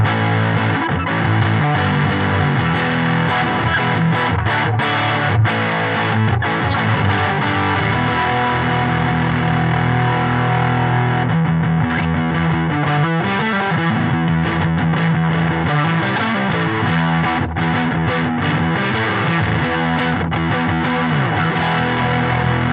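An electric guitar runs through a Movall Black Widow overdrive pedal, playing loud, dense distorted chords and riffs continuously with changing tones throughout, no talking.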